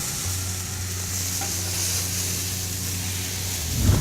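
White wine splashed into a pan of sizzling shallots, garlic and chili flakes gives a steady, hissing sizzle that holds evenly, with a brief clatter near the end.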